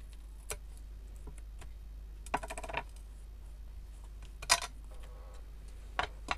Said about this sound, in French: on vient couper le washi